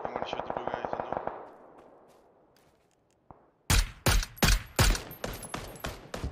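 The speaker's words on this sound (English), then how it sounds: "I'm gonna shoot the blue guys in there" In a ranked trio match of PUBG, a fast rattle of earlier shots fades out, then a loud close burst of about six heavy gunshots cracks in an uneven rhythm, each trailing off briefly.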